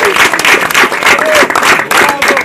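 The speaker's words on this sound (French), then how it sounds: "On peut l'applaudir." Close, loud audience applause with clapping in rhythmic bursts, a brief voice or whistle audible briefly amid the crowd noise.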